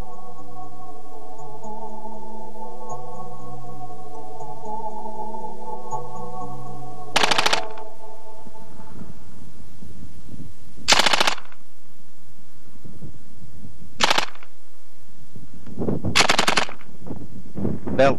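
C9 light machine gun fired in several sharp separate bursts, loud and close, over a steady low mechanical hum.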